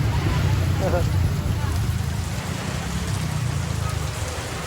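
Typhoon wind and heavy rain in San Juan, Batangas, a loud continuous roar of downpour and gusts throughout, with faint voices beneath.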